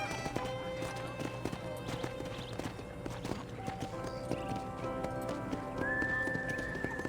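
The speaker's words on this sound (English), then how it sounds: "I picked out a fine horse for you." Horse hooves clip-clop steadily through an in-game ranch property in Red Dead Redemption on PC, with a whinny and soft game music and ambience beneath the continuous even hoofbeats.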